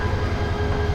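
At Kamalapur railway station in Dhaka, the Subarna Express gives off a steady, close, low rumble with a faint metallic hum and no voices.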